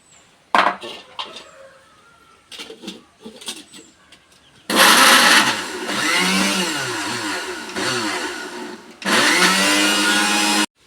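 A kitchen mixer grinder blends chutney until smooth, with clattering and handling noises at first, then two loud whirring bursts of grinding, the first about four seconds and the second shorter after a brief drop.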